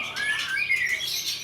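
A caged songbird being trained for contest singing gives a fast, high, squawking call with rapid rising and falling chirps, close and fairly loud, with no talking.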